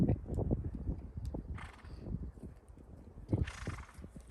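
A horse canters during a riding lesson, its muffled hoofbeats thudding in a steady rhythm with faint breathing and brief bursts of rustling, all at low level with no talk.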